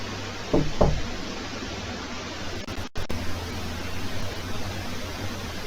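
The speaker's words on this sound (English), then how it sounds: "Can you give us 2 knocks?" Two sharp knocks sound close together during a ghost hunt inside a used bookstore, brief and fairly close over a steady hiss of background noise, followed by a short dropout and continued hiss.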